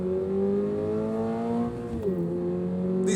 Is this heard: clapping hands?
no